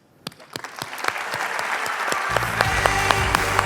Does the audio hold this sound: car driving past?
no